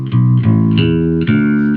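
An electric guitar runs through a Tech 21 SansAmp Programmable for distortion, playing loud sustained chords that shift a few times, with thick harmonic overtones and no talking.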